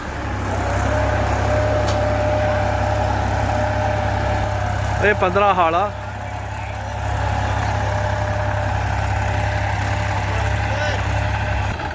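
A Massey Ferguson tractor's diesel engine idles steadily throughout with a low, constant rumble, while someone talks over it and a brief warbling tone appears midway.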